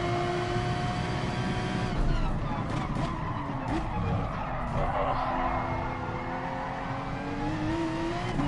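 Car tires skid under hard braking in the Gran Turismo Sport racing game, a steady engine drone with a sliding tire squeal rising and bending over several seconds, loud and continuous.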